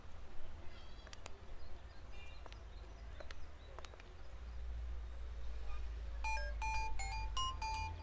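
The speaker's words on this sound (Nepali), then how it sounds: "एकैछिन है मेरो फोन आयो" A mobile phone ringtone plays a quick run of bright, repeating melodic beeps in the last couple of seconds, cutting through a steady low hum and scattered background noise.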